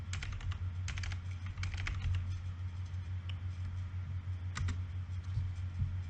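Keyboard keys tapped in quick bursts and pauses while commands for setting up an FXServer for FiveM are entered, heard over a steady low hum of background noise.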